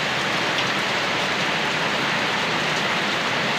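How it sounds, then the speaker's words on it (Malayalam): Heavy monsoon rain pours steadily, a dense, unbroken hiss of water falling on surfaces with no voices. "എന്തൊരു മഴയാണത്"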